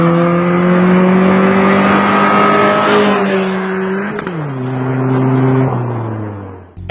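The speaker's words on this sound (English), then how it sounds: "the car is at its shift point. Now shift." Manual transmission car engine revving steadily, then dropping in pitch twice as gears are shifted, loud and close with a smooth rising drone between shifts, no talking.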